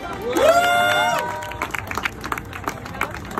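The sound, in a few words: crowd applauding and cheering the contest winner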